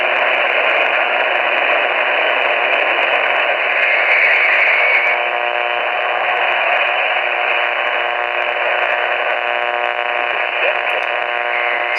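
Steady AM radio static and hiss while tuning to 610 on the dial near Duluth and Superior, a dense wash of noise with faint buried tones that holds unbroken for the full stretch.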